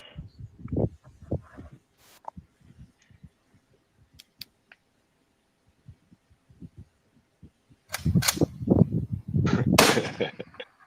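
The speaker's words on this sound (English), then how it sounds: "I think he's shooting it's AR 223." Gunshots from an AR .223 rifle fired near power lines, heard as several distant dull thumps spaced irregularly, followed by a louder stretch of rumbling noise near the end.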